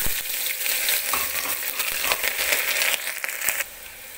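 Finely chopped onion and garam masala frying in hot oil for dudh korma, giving a loud close sizzle with crackling bursts and scraping stirs that ease off near the end, with no voices.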